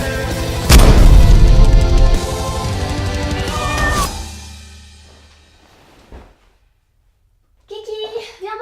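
A house cat meows a few times, loud and close, with the calls stretching and fading out before a short pause, then a brief higher meow returns near the end.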